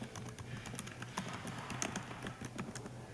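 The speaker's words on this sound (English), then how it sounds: "On the first line, type your paper's title." Computer keyboard typing while a paper's title page is formatted in Microsoft Word: a continuous run of quick, close key clicks with an occasional louder tap, steady throughout, with no talking.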